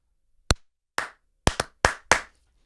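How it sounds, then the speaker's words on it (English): Sharp hand claps right into a close microphone in a home studio: six loud, crisp smacks spaced irregularly, two in quick pairs, each ringing briefly against silence. "Joe hates it when I clap in the mic"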